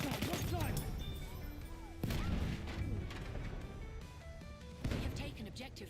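Machine gun fire rattles through a Battlefield 1 firefight amid heavy booming impacts and crashing battle noise, loud and dense, with voices speaking over the din.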